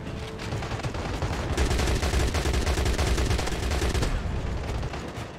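Sustained, dense gunfire in the Crossfire X multiplayer first-person shooter, a continuous rattle of rapid automatic shots and overlapping blasts that runs loud for several seconds before easing off.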